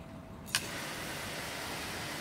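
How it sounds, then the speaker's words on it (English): A low, steady engine idle drones continuously, with a brief sharp click near the start; no voices. "It's just like the lowest idling chainsaw I've ever heard."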